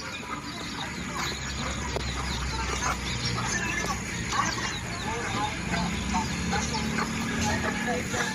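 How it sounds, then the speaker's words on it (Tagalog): Chickens cluck and chatter continuously around the yard, with light rustling and a distant rooster-like call in a busy outdoor soundscape. "Daming alagang manok ni Kuya Uy, oh"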